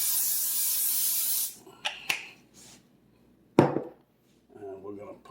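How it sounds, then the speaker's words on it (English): Butter cooking spray hisses from a can into a pan in one sustained burst, followed by a few sharp knocks and clatters of utensils and a brief faint voice. "we're going to put some butter spray in there"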